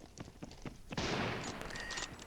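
Gunfire in the battle royale game ScarFall 2.0 erupts as a sudden loud burst after scattered faint clicks and keeps rattling to the end.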